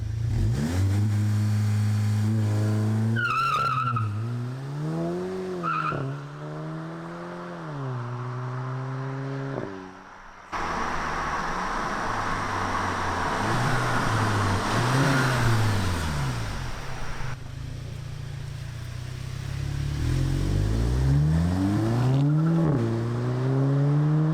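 A Volkswagen Mark 7 GTI revs and accelerates hard through several gear changes, each pull rising in pitch, followed by a stretch of broadband roar and then another climbing run, loud and close with no talk.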